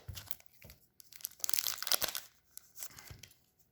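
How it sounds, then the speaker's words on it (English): Plastic wrapping of a card booster pack crinkles as it is cut open with scissors, giving close, quiet bursts of rustling and snipping crackle in uneven clusters with short gaps between them. "We'll just, you know, use our scissors because we've already got them out."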